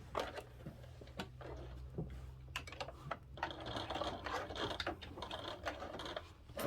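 A sewing machine top stitches a fabric billfold wallet in rapid mechanical bursts, with clattering needle strokes, short pauses, and a faster steady run in the second half, close and alone.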